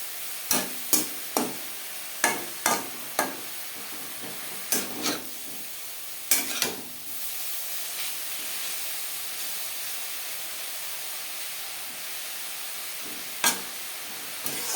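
Radish greens with grated coconut and turmeric being stir-fried dry in a pan, Bengali style: a run of sharp spatula scrapes and taps early on, then a soft steady sizzle and hiss, with a later tap near the end.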